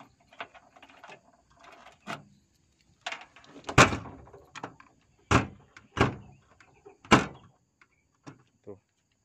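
A 2012 Toyota Vios door being worked shut with several sharp thuds and clunks spread across the stretch, some louder slams, mixed with fainter handling noises and a person talking between them.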